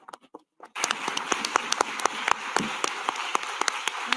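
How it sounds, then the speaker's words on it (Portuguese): Audience applause closes a session at a Brazilian psychology congress. A few sparse, hesitant claps come first, then a brief hush, then a full burst of steady, close clapping with sharp individual hand strikes standing out. "Vamos dar uma salva de palmas a ela"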